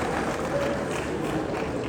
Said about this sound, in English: Please let me give a big round of applause.